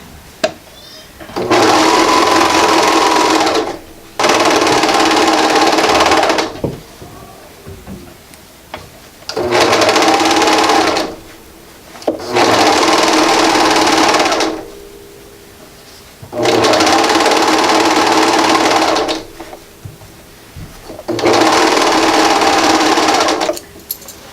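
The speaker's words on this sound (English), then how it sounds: "So just quick once around the part with the serger." A serger runs once around the edge of a faux fur knit beanie, six loud sustained bursts of stitching a few seconds each, separated by short pauses, with no talking.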